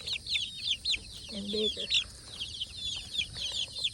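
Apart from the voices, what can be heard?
chickens clucking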